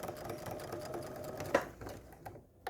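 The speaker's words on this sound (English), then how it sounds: "I'm just going to sew another line" A sewing machine runs in a quiet, steady mechanical patter while stitching a line on a quilt block, then stops.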